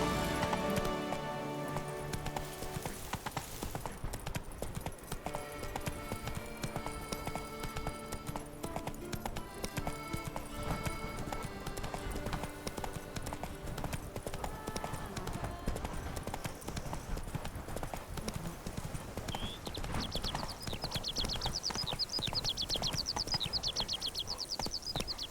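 Hoofbeats of the horse Roach galloping in The Witcher 3, a steady clip-clop running continuously under a dense, loud game soundtrack, with a brief neigh possible.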